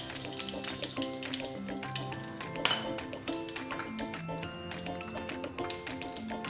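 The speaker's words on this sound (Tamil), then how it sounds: "கடுகு போட்டு தாளிச்சிடலாம்." Mustard seeds crackle and sizzle in hot sesame oil in a home kitchen, a steady dense frying hiss with scattered sharp pops and light taps of utensils, close and fairly loud, with no talking.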